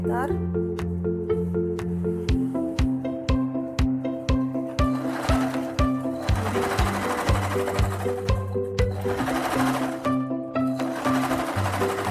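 A sewing machine stitches the side and bottom seams of an embroidered tote bag, running in bursts of rapid rhythmic needle thumps with brief pauses, close and loud, with a voice talking underneath.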